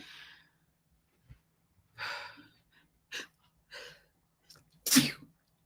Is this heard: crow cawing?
no